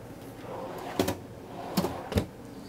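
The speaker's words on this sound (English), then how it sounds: "And they put some drawers under here." Three short wooden knocks and slides, like a deep drawer under a seat being pulled open and pushed shut, close by in a quiet 2005 SportsCoach Encore motorhome.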